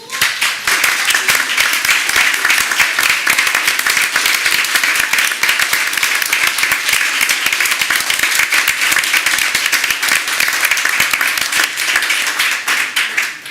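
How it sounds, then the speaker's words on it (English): A school board meeting audience stands and claps for students who played in the band and orchestra and sang, a loud, dense and steady applause that carries on unbroken for the full stretch with no talking over it. "I just ask if we'd all stand and give everybody a round of applause."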